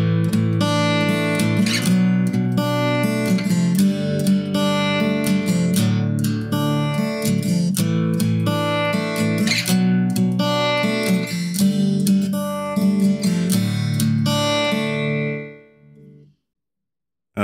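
Acoustic guitar strums the intro and verse chords of a song in a steady, full rhythm, close and unaccompanied, before the last chord rings out and fades to silence.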